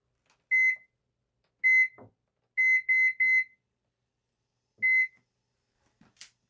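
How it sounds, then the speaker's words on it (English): A kitchen timer gives short, clear electronic beeps: single beeps, then a quick run of three, then one more, separated by silence with faint handling noises between. "Okay, it beeped."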